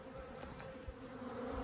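Honeybees swarm over a pile of partially filled honey supers, robbing them: a dense, continuous buzzing drone of many bees close by, steady and unbroken, with no voices.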